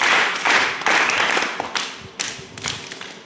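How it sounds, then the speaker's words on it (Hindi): Welcoming applause from course participants at the Shibli Academy library in Azamgarh, scattered hand claps that swell then thin into a few separate claps, moderately close. "उनके लिए एक स्वागत ताली बजा।"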